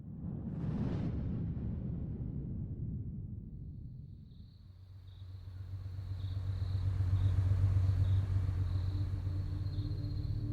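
Red car driving through Blairsville at night, a low rumbling engine drone that fades briefly then builds again to a steady hum, with a faint high whine above it and no voices.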